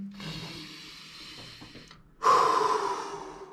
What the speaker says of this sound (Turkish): Nefes alıyoruz